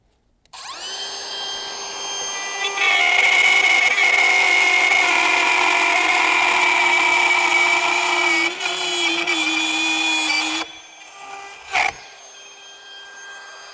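A DeWalt cordless router cuts wood with a loud, steady high-pitched whine lasting about ten seconds, its pitch dipping slightly under load near the end before it spins down, followed by a single sharp knock.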